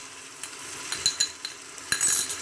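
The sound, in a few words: garlic ginger paste frying with onions in a pan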